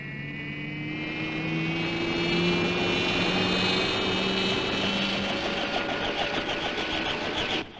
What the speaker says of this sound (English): Hitch the cable to the copter, Ralph.